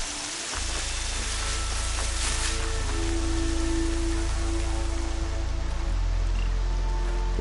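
Steady rain falls in Horizon Zero Dawn, a dense, even patter on surfaces that holds at moderate loudness throughout with no voices over it.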